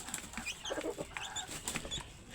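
A farm chicken, just released on a village farm, clucks in a few short, clear bursts against a faint background.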